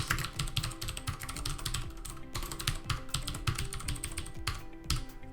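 Rapid, close computer keyboard typing as an address is entered into a web form, crisp clustered keystrokes in quick bursts with a brief pause near the middle, no talking.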